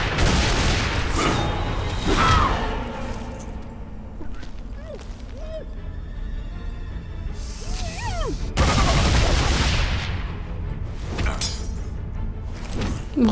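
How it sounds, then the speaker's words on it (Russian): Lara Croft fires at an armored enemy in Tomb Raider: Anniversary, with loud bursts of rapid gunfire near the start and again midway, and quieter game sounds and occasional talk in between. "Она ведь в него прямо стреляет."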